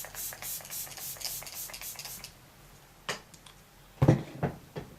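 A few soft, breathy hissing bursts of a makeup setting spray bottle in quick succession, fairly close, followed by brief handling noises.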